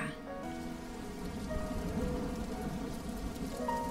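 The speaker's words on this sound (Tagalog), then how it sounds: "grabe, ang lakas ng ulan, no?" Heavy rain pours steadily in a thunderstorm, a dense, even hiss of drops on surfaces with low rumbling thunder underneath, swelling slightly midway and continuing throughout.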